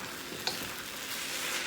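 Soy sauce being stirred into lobster tail and bacon fried rice in a hot pan, a steady close sizzling and frying hiss with faint scraping of stirring throughout, no talk.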